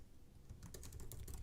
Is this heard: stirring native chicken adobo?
no